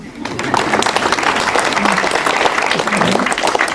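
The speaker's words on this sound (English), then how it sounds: "you must clap for her" An audience at an environmental conservation event at the Giraffe Centre in Kenya claps for a guest being introduced, a steady, fairly loud round of many hands with some murmuring voices underneath.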